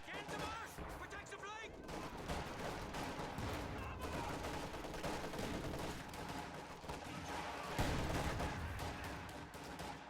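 Machine gun fire and other battle noise in Company of Heroes 2 make up a dense, continuous clatter of rapid shots over a rumbling background, steady and loud throughout, with a heavier impact near the end.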